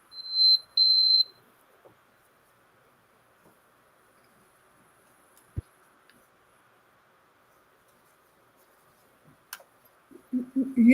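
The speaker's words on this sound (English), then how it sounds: "The beeping sound?" Electronic beeping: a short burst of high-pitched beeps at the start, then near silence with a faint steady hum and a few soft clicks, before muffled low sounds rise at the end.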